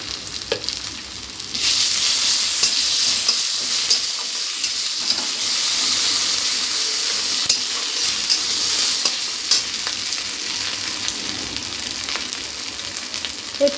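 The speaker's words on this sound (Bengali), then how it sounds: "দিয়ে দেবো একটু আদা বাটা আর একটু লঙ্কা বাটা" Ginger and chili paste sizzle steadily in a hot pan while cooking neem with eggplant, a loud close frying hiss with stirring scrapes and no talk.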